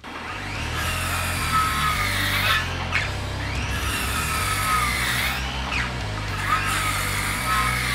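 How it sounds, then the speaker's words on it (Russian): A cordless brushless DENZEL circular saw bites through a wooden beam, its motor whine rising and dipping in repeated loud cutting passes over a steady mechanical hum. "Давайте посмотрим, как с этим брусом пила будет справляться"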